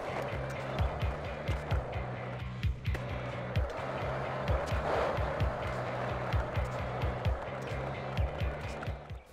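Skateboarding in the PS3 game Skate, with steady rolling wheel noise and a regular run of clacking board hits and pops, fairly loud and continuous with no talk.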